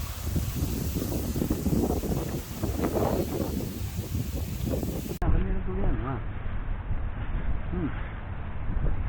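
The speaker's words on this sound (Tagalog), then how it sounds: "Lakas ng hangin, oh." Strong wind buffets the microphone in a constant rushing roar, with people talking underneath.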